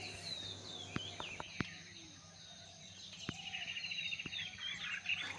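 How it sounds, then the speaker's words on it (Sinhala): Morning birdsong near misty hills in Sri Lanka: faint, scattered chirps and thin whistled calls drift in from a distance over a quiet background, with a few sharp clicks. "කුරුල්ලන්ගේ කිචිබිචි සද්දෙත් එක්ක"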